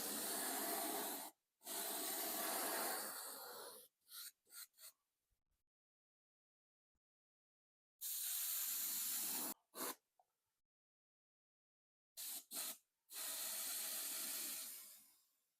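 A spray gun lays a coat of paint on a 1976 Monarch car in several close, hissing bursts, some long and some short, separated by silent pauses.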